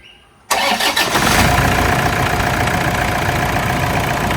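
A Toyota Innova intercooler diesel engine cranks and fires abruptly after a brief quiet moment, then settles straight into a loud, steady close-up idle.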